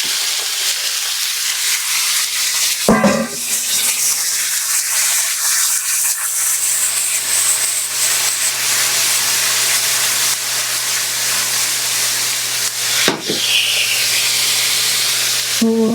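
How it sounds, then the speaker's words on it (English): Leftover meat sizzles steadily in bacon fat in a pan, a continuous hiss with two sharp clatters of stirring or scraping along the way, close and alone without talk. "So I'm going to use this bacon fat to fry up my meat."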